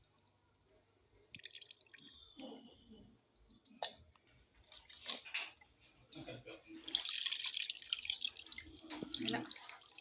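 Thick soaked tamarind-style pulp being poured into a pot of fish curry, giving soft wet drips and splashes with a brief clatter, while someone talks over the cooking sounds.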